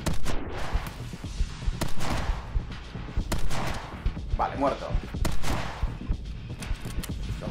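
Gunfire from the side-scrolling action game My Friend Pedro, including sniper shots: a run of sharp, close shots and bursts at an uneven rhythm, with someone talking excitedly over them in Spanish.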